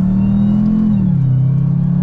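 Engine of a 2021 Dodge Durango Hellcat SUV revving, a loud close low drone that holds steady then drops in pitch partway through as it settles.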